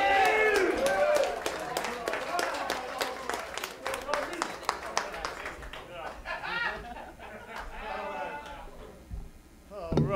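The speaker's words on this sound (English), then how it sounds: "Keep those applause going for the Rodney" Audience at a comedy showcase in a tavern claps and whoops in a dense burst of applause with shouts and chatter, thinning out toward the end as a voice speaks over the crowd.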